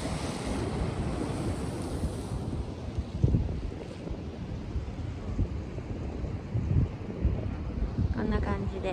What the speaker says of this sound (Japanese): ここはどこの海かというと一宮です。